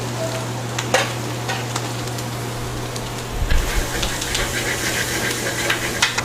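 Onion and garlic frying with whole butter in a pan give a steady, moderate sizzle and hiss, with a low constant hum underneath and a few clinks and stirring scrapes breaking through.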